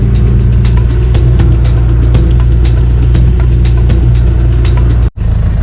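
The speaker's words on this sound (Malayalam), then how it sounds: "ഈ ജീപ്പിലാണ്, ഓപ്പൺ ജീപ്പിലാണ് നമ്മൾ പോകുന്നത്" An open jeep heading to Pullikkanam in Kottayam district drives along, producing a loud, constant engine rumble mixed with wind and rattling, heard from on board, with a brief dropout just before the end.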